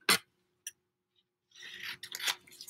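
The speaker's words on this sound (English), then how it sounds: "I've got out my scissors and my glue, and let's do some cutting." Scissors cut paper close by, starting with a few isolated snips and then turning into longer rasping cuts, all heard without any talk.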